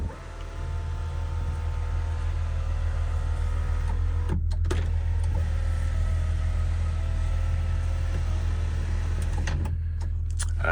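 Continuous electric motor whir from the sunroof of a 1993 Volkswagen Corrado SLC VR6 as it tilts up and then down, steady and close with brief clicks where it stops and reverses.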